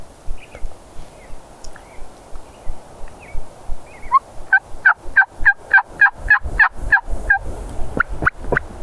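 Wild turkeys gobbling on public land near a road during a hunt, a loud rapid run of repeated gobbles after softer scattered calls and rustling, fairly close.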